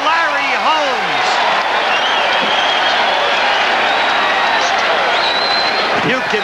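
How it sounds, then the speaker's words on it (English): Boxing crowd on its feet cheering at the end of a round in a heavyweight bout, a loud continuous roar of voices and clapping with an announcer talking over it. "The crowd on its feet cheering for Larry Holmes."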